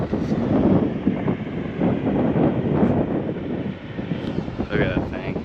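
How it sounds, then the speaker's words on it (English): Strong wind batters the microphone on the Greek island of Amorgos near a shipwreck, a loud continuous low roar with gusty swells throughout, and a voice is faintly heard underneath. "Obviously, it's very windy"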